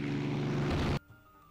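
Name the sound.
aircraft arriving in the naval video game Rule The Waves 3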